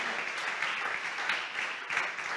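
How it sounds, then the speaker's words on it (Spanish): A church congregation applauding during an evening sermon, a steady, fairly soft wash of many hands clapping together throughout, with no other sound standing out. "Fuerte ese aplauso si siente hacerlo."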